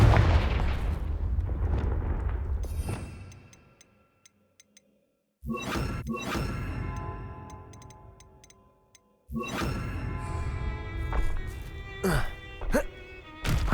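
Fiery blasting-spell explosions in the Hogwarts Legacy video game, loud booming bursts that decay into crackling debris and ringing ticks, repeated three times with near-silent gaps between.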